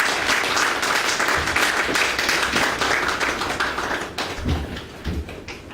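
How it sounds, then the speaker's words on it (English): A theatre audience applauds during a stage show, dense steady clapping that fills the whole stretch, loud and close, thinning slightly toward the end with a few sharper claps. "can you give him a big round of applause"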